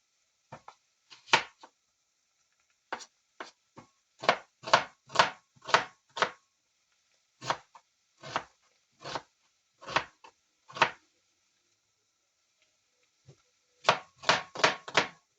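Sharp knife chops onion on a board, quick bursts of several strokes separated by short pauses, close and crisp, with no talking.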